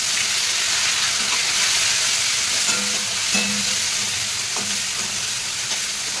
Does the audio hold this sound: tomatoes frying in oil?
yes